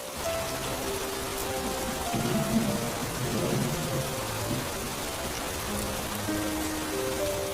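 Steady, dense heavy rain pours down continuously, a broad hiss of falling water with faint low rumbles underneath and no voices, in a Hindi cartoon story.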